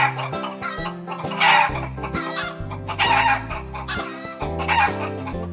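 Chickens cluck busily while a rooster crows in the farmyard, loud and close, with overlapping calls in a rough repeating pattern and no speech.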